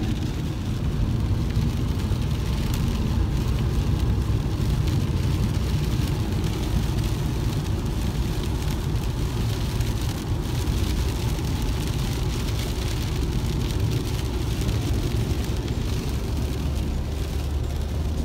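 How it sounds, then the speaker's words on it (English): Heavy rain roars steadily and loudly, a dense unbroken wash of noise with no pauses. "I don't know if you guys can hear how hard it's actually raining"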